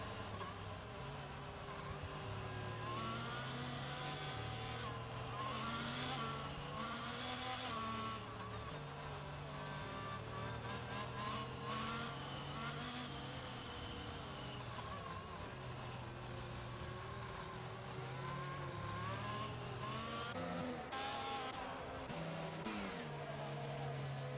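F1 race cars in a racing video game at the Australia track, a steady engine drone with shifting pitch that runs the whole way, one car's whine rising and falling over a constant background hum.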